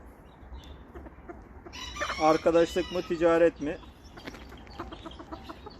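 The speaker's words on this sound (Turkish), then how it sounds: "bu beyaz tavukla horozu ayrı bakıyorum aslında" Ko Shamo chickens, a white hen and rooster, give a loud crowing and clucking burst nearby, with someone talking before and after.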